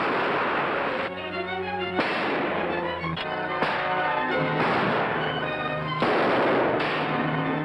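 Gunfire in an old western serial film, several sharp shots cracking at uneven intervals over a constant noisy soundtrack hiss, with some short tonal stretches in between.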